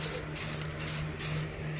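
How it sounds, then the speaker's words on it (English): Short bursts from a spray bottle or nozzle mist cleaner over car parts during engine prep, four quick hissing sprays in a loose rhythm over a faint steady hum, close by. "I'm gonna go ahead and continue spraying all of this down."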